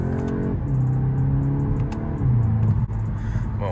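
A car accelerates in brief bursts on a test drive, the engine note climbing steadily, dropping at a gear change, then rising again, loud and close from inside the cabin.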